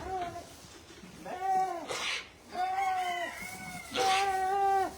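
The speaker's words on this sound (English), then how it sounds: "doing a despairing lamb call" A young lamb on a farm bleats nearby, three drawn-out, wavering calls in a row, moderately loud against light background noise.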